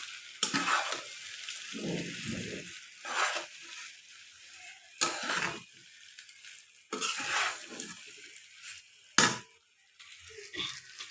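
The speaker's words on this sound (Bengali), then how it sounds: "এখন পাস্তাগুলো দিয়ে দেব ভালো মতন মিক্স করে নেব" Pasta is stirred and tossed in a hot frying pan at home, giving bursts of sizzling and scraping separated by quieter pauses, close and fairly loud.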